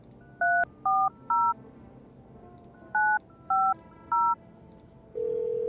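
A telephone in a video game dials the neighbor: six crisp touch-tone beeps come in two quick groups of three, and a steady tone follows them. The tones ring out clearly over a faint background hum.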